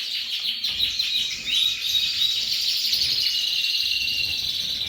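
Many small caged birds in a breeding birdroom chirping and twittering continuously at close range, a busy overlapping chorus of high, bright calls.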